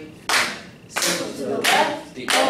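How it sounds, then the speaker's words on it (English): A class claps together in a rhythm, four sharp group claps spaced about two thirds of a second apart, close and loud, with faint voices in the background. "All right, keep clapping."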